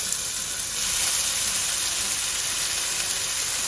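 Chopped onions hit a hot pan with bay leaves and cumin seeds for a chicken curry, giving a loud, steady sizzle and hiss that holds evenly throughout with no talking.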